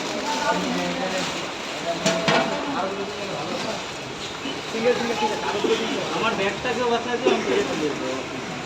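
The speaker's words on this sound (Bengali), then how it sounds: "দেখো প্রচুর বৃষ্টি হচ্ছে" Heavy rain falls outdoors as a steady, dense hiss, with people talking over it throughout.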